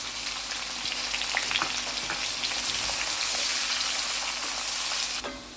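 Chopped onion with cumin and garlic fries in a hot pan for a quick pulao made from leftover rice, giving a close, steady sizzle with crackling pops and occasional stirring, and no one speaking.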